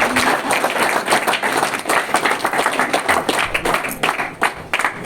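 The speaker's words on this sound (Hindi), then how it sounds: "चलो बैठ जाओ, तालियां अपने लिए बजाओ।" Audience at a gathering claps for itself, a dense, loud burst of many hands applauding steadily without pause.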